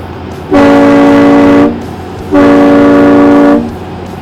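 A Kleinn SDKIT-730 Demon triple train horn, a vehicle-mounted air horn kit, blasts twice, each a loud, sustained chord of about a second, separated by a short pause.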